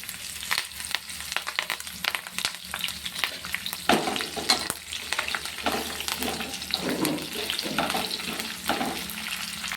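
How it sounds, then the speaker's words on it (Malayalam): Chopped green chillies sizzle and fry in hot oil with asafoetida for a homemade green chilli pickle, a steady close crackle broken by repeated scraping stirs in the pan, with no talking. "ഇനി നമുക്ക് അരിഞ്ഞു വെച്ചിരിക്കുന്ന മുളക് ഇട്ട് കൊടുക്കാം."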